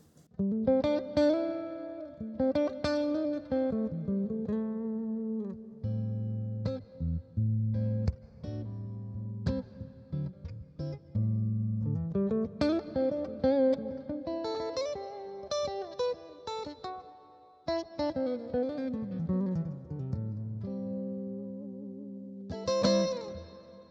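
Electric guitar played through a reverb pedal, chords and single notes ringing out with a long washy tail that blurs each phrase into the next, steady and fairly loud with no voices.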